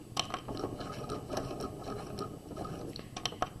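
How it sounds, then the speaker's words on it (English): Sewing machine back stitching along a jacket collar seam, a short run of mechanical whirring with rapid clicking and rattling, close and fairly quiet with no talk. "We're going to back stitch"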